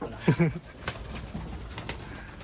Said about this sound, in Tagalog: Kalapate.